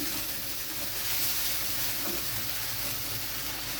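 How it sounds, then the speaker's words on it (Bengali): Ginger garlic paste frying in a pan, a steady, close, continuous sizzle and hiss throughout with no voices. "দিয়ে দিলাম আদা রসুন পেস্ট এটাকে আমি ভালোভাবে ভেজে নেব"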